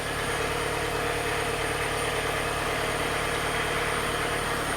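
A diesel engine idles steadily on a dyno while warming up, a continuous, even drone with a low hum running unbroken throughout.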